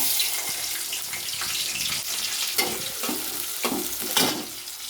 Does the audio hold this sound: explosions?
no